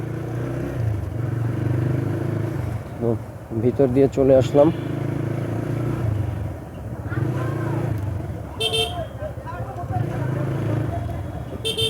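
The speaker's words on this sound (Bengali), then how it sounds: "ছোট ছোট রাস্তাগুলোতে বাইক চালিয়ে ভালোই লাগে" A TVS Raider motorbike rumbles steadily along narrow streets with traffic around, engine drone continuous, with another vehicle briefly tooting its horn; a rider talks over the engine noise.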